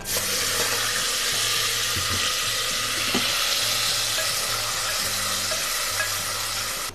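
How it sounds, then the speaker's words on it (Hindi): Browned onions tossed into sizzling cumin in hot oil, part of a tarka biryani, give a steady loud frying hiss with scraping stir sounds throughout. No talking. "ज़ीरा कड़कड़ाने लग गया तो साथ ही ये मेरे पास प्याज ब्राउन किया हुआ पड़ा हुआ है, ये मैं डाल रही हूँ।"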